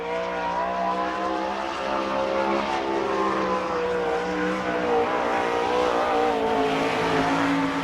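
A sprint car screams around a dirt oval during qualifying at the All Star Circuit of Champions Bauman Memorial in Sarver, PA, its engine a loud, sustained, high-revving roar that holds steady without a break.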